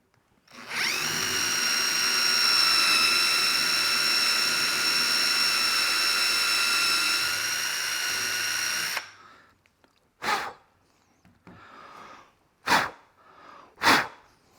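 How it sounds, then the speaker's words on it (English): A power drill with an 11/32 bit bores a hole into wood furniture, running as one loud, steady whine for about eight seconds, then stopping, followed by a few short, sharp bursts. "I've got my 11/32 drill bit, and I've got it taped off to the desired depth"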